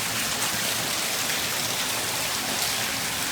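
Heavy rain pours steadily, a dense, loud hiss of water with no pauses and no voices.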